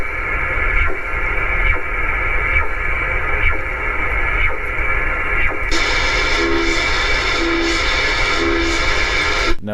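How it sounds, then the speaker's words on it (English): CODAR oceanographic radar signal picked up on a shortwave radio, a steady sweeping tone repeating about once per second over constant static hiss, with faint pulsing bursts joining partway through. "CODAR is used for measuring waves, wave speeds, and such like that."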